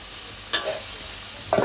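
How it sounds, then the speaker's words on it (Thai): Pork sizzles steadily in a hot pan, with a couple of scraping stirs from a spatula; no voices. "ต่อด้วยการลงกระทะนะครับ ลงกระทะผัดครับผม"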